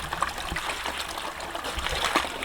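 Water trickles and flows steadily through a farm irrigation canal in a village near the Bhutan border, a continuous close rushing wash with no talking.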